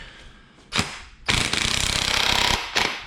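A ratchet wrench clicks rapidly in a steady run on a 24 mm crank bolt, like an LS crank bolt, with a couple of short metallic clunks before and after. The sound is close and loud, with no talk.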